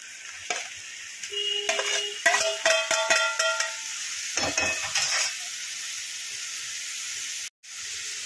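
Paneer goes into a pan of hot frying masala for paneer bhurji and is stirred, a steady sizzling hiss under sharp metallic clinks and scrapes of the spoon against the pan, close by, ending in a brief cut.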